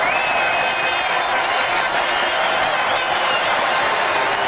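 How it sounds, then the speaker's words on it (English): Cricket crowd at the Basin Reserve in Wellington applauding a batsman's fifty during a 1990 one-day international between New Zealand and India, a steady broad wash of clapping and cheering lasting throughout at even loudness. "And well received by the crowd here at the Basin Reserve"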